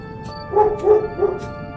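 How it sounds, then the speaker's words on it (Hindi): A dog barks far off in a village at night, three soft, muffled barks evenly spaced against a quiet, faintly humming background. "दूर कहीं किसी कुत्ते के भौंकने की आवाज सुनाई देती है।"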